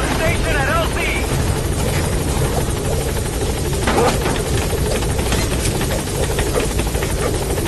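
The Pequod helicopter in Metal Gear Solid V thrums loudly and steadily as it settles at the landing zone, a constant rotor roar with scattered distant gunfire crackling through it.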